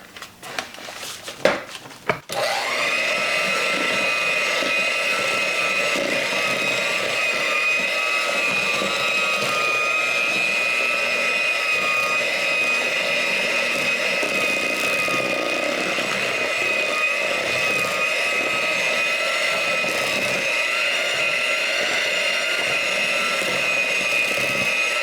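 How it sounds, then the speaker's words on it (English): An electric stand mixer switches on after a few clattering handling noises, then runs with a steady high whirring motor whine as it beats cinnamon apple cake batter, loud and continuous. "I'm going to switch over to my mixer"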